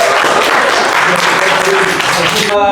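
Loud, dense clapping from a classroom audience during a polytechnic teaching session, rewarding an answer; the applause fills the stretch and cuts off abruptly near the end.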